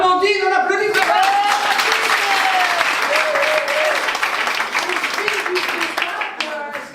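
A theatre audience claps loudly and densely throughout, with cheering and voices rising over the applause before it tapers off near the end.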